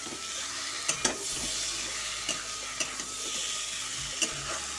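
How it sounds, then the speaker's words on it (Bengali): Pointed gourd, potato and prawns with spices stir-fried in a pan, a steady close sizzle with a few sharp spatula scrapes and knocks against the pan. "তো চলো ভালো করে একটু কষিয়ে নিই, মানে মিলিয়ে নিই সবগুলো সবজির সঙ্গে।"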